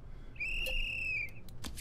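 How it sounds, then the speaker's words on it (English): A corn whistle sounds in the Scribblenauts Unlimited video game, giving a single clear sustained high whistle note just under a second long, followed by a few soft clicks, with no talking. "Stop playing the whistle."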